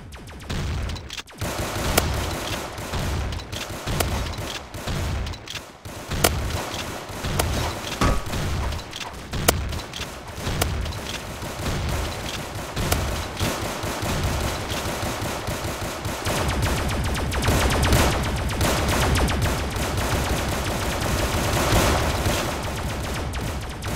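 Shotgun fire in a video game, a dense, loud barrage of repeated blasts and booms that runs almost without pause, rapid and overlapping from start to finish.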